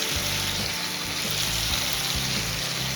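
Fish curry of rui (rohu) with cauliflower and potato sizzling and frying steadily in a pan as turmeric goes in, a close, continuous crackle with no talk.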